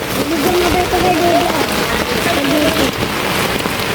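Heavy typhoon rain pours steadily and loudly, with a voice speaking briefly underneath the downpour.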